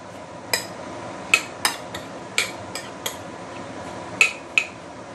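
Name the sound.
mixing sauce ingredients with sugar and lime juice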